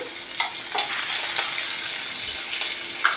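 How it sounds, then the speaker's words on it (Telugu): Cumin seeds and green chillies frying in hot oil, a loud steady close sizzle with a few brief stirring scrapes punctuating it. "జీలకర్ర కొంచెం వేయించుకోవాలి"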